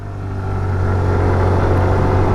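A TVS Jupiter 125 scooter pulls hard at full throttle, its engine drone rising and holding steady and loud throughout, with road and wind noise underneath.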